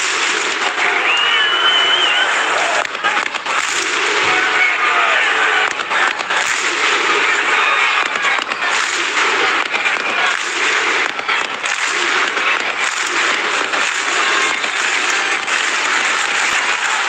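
A Canberra Stadium crowd before the Canberra Raiders versus Manly Sea Eagles NRL rugby match makes a loud, dense wall of noise, with scattered sharp claps rising from the steady roar throughout.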